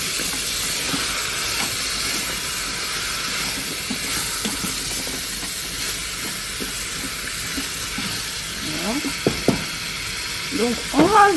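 Frozen Brussels sprouts and carrots fry with spices in a Cookeo multicooker, giving a continuous close hiss and sizzle with scraping stirring knocks toward the end; no voices.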